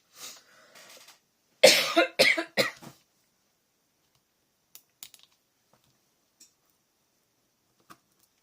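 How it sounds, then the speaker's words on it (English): A person at a scrapbooking craft table lets out a short burst of several harsh, close coughs, followed by quiet stillness with a few faint ticks and taps. "I had to quickly go and have a bit of a cough."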